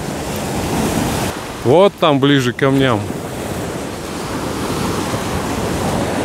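Sea waves washing onto a beach fill the scene with a steady broadband rush and wind buffeting the microphone, while someone speaks briefly over them near the start.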